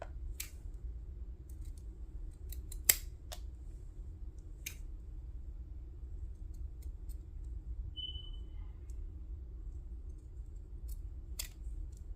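Scissors snip a tea bag for a junk journal, giving a few faint, sharp clicks spread apart over a steady low hum in a quiet room.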